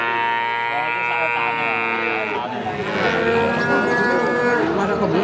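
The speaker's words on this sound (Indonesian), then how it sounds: "Sapi-sapi bibitan." Breeding cattle low and moo amid the busy chatter of people at the Margorejo Pati cattle market, with overlapping calls close by.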